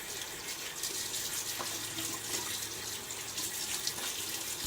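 Water runs steadily from a tap at a bathroom sink while someone prepares for a shave with a lather bowl, a continuous close splashing hiss lasting the whole moment.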